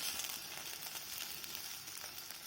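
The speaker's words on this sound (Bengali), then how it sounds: "এটাকে ভাজতে দিতে হবে, এটা ভাজা হোক।" Okra fries lightly in a pan with a pinch of salt, a faint, even, continuous sizzle with no voices.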